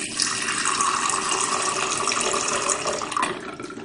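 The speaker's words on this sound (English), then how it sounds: "rinse all the sensors and the cup thoroughly with deionized water" Deionized water runs steadily from a tap while sonde sensors and a calibration cup are rinsed, a constant close splashing hiss with no voices.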